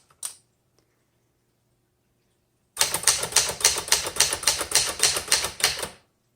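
A 1971 Remington Ten Forty typewriter types a steady run of firm, evenly spaced keystrokes up close, about a dozen crisp clacks after a single early tap and a pause, with no talking.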